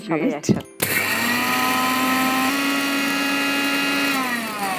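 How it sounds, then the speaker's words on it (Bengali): A Singer grinder with heavy-duty aluminium blades whirs into a loud, steady high-speed grind of rice after a brief bit of talk, running continuously close by. "চালটা দিয়ে দিব সিঙ্গারের গ্রাইন্ডারে রয়েছে হেভি ডিউটি অ্যালুমিনিয়াম ব্লেড"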